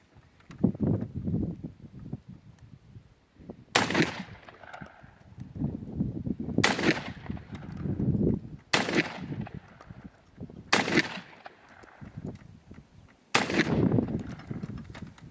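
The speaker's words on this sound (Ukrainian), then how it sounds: "Продовжуємо, відстрілюємо кулю 40 грамів так, друзі, продовжуємо." Five loud, sharp shotgun blasts from a Locatelli 12-gauge firing 40-gram cylindrical slugs ring out outdoors at irregular intervals, each with a short echoing tail, while rustling and movement fill the gaps.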